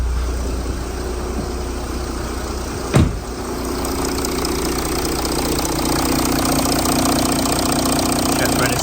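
A Mercedes E350 CDI V6 diesel idles steadily after a fuel filter change, a continuous low rumble close by with a single sharp knock partway through.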